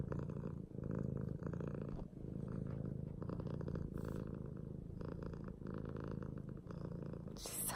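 A cat purrs steadily and continuously up close, a low rumbling drone with soft rhythmic pulses and no talking.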